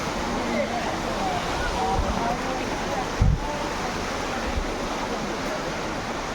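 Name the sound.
Katiki waterfall rushing water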